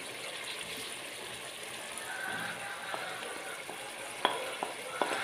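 Grated tomatoes and spices fry in a pan with a steady, close sizzle, broken near the end by a few sharp crackles and pops.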